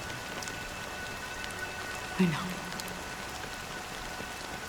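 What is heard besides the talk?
rain falling in a video game cutscene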